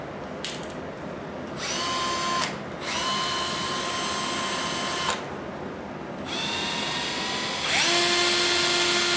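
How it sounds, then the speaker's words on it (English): A power drill whines in several bursts drilling a pilot hole on a Bullnose Ford, spinning up and cutting off between them, loud and close with short pauses in between. "I might actually drill a pilot hole."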